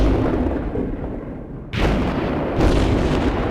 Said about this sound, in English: Type 34 actually gets a shot in